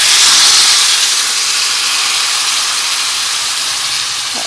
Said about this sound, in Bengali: আলু ভাজা হয়ে গেছে এর মধ্যে দিয়ে দিচ্ছি মশলা